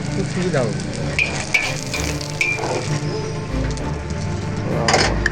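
An egg fries in a pan with a steady, close crackling sizzle that runs throughout, and a voice is faintly audible at times.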